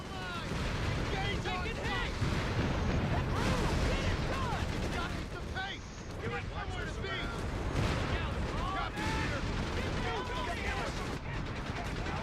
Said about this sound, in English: Rocket barrage.